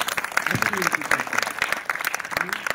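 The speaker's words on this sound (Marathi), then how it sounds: "तुम्ही स्वतःसाठी एकदा जोरदार टाळ्या वाजवा" Swimmers at an award ceremony break into applause, a dense burst of many hands clapping with voices audible underneath.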